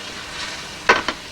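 Onions frying in a pan, cooked until translucent: a faint steady sizzle with two brief, close scraping stirs near the end.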